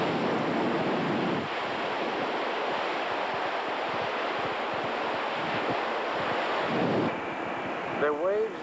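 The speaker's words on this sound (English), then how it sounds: "Listen to the water crashing against the ship's bow." Water rushes and crashes against the bow of the ship m/v Antwerpen, a loud, steady broadband wash mixed with wind buffeting the microphone, swelling and easing in surges, with a brief voice-like sound near the end.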